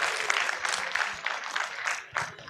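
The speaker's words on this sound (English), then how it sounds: "huge round of applause" Audience members at a convocation ceremony clap in a moderate, uneven burst of applause that rises and dips, with scattered individual claps standing out and a brief lull before it picks up again.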